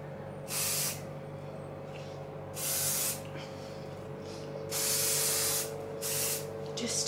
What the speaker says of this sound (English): just using the Beautyworks Superhold